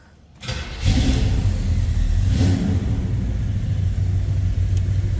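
A 1971 Chevrolet Monte Carlo's engine cranks briefly and catches, then a loud close rev gives way to a deep, steady, lumpy idle.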